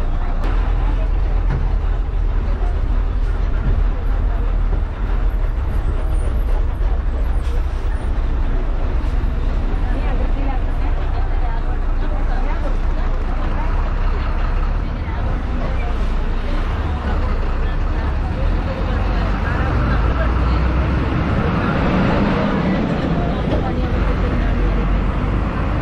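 Inside a moving KSRTC bus on the road to Tholpetty, the engine drones with a deep rumble and rattling cabin noise, steady and loud for the whole ride, with faint passenger voices underneath.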